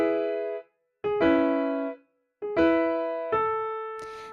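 Piano playing the chord sequence from a song, several struck chords each ringing and decaying with short gaps between, played alone.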